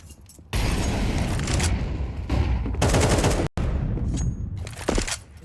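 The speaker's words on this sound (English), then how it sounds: "Device clears the smoke, makes a couple of pot shots" AWP sniper rifle shots in Counter-Strike 2 during a professional match on the map Vertigo, a few loud, sharp booming blasts with short gaps, set against dense game noise and no talk.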